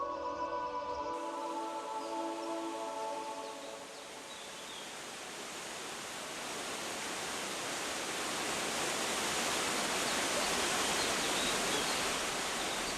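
The Triberg waterfall on the Gutach river in Germany's Black Forest roars as a broad, constant rush of falling water, steady and fairly loud, after a brief bit of music at the start.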